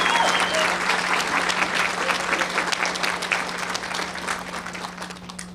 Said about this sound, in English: So a round of applause for all the elementary school nominees.